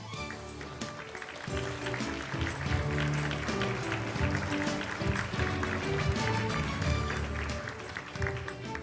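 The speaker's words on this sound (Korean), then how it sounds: "여러분 따뜻한 박수로 환영해 주시면 감사하겠습니다" An audience at the opening ceremony of an international conference on intangible cultural heritage applauds in welcome, a steady, dense wash of clapping that carries on throughout.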